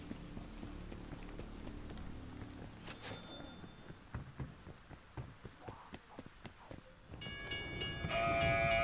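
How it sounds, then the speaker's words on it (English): Trains running on a looping track at a station in a zombies video game, a rhythmic run of wheel clacks over steady rumble that swells louder toward the end, with a brief voice at moments. "are several trains trapped in a loop at this station"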